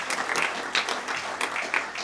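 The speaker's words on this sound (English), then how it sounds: "can we give them a real big round of applause to get the nerves out?" An audience at an election information evening on gun laws claps for candidates in a short, lively burst, with crisp individual claps rising and falling.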